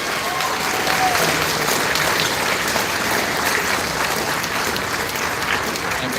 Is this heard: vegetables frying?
no